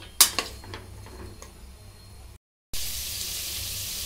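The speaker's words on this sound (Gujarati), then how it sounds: "તમે જોઈ શકો છો આપણા ગાજર બધા ઘીમાં સંતળાય છે" Grated carrots sauté in ghee inside a pressure cooker for Gujarati carrot halwa, giving a steady frying hiss with a couple of sharp utensil clinks early on and a brief silent gap before the sizzle returns louder.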